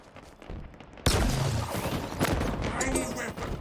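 Weapon fire volley in a Halo big-team battle match: quiet ambience, then a sudden loud burst of gunfire and blasts that keeps rumbling with scattered impacts and faint voice callouts underneath.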